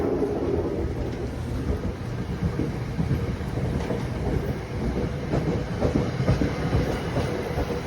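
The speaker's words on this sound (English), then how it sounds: "Oh, looks like it's heading off now. Let's say bye to one of our greatest trains." A train rumbles steadily with a low, continuous roar and faint rhythmic clatter, sounding close and sustained throughout.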